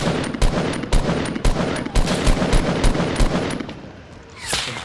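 Rapid bursts of gunfire with sharp, evenly spaced cracks in a Fortnite Battle Royale match, loud and close, a steady volley of about a dozen shots that fades into a softer rising whoosh at the end.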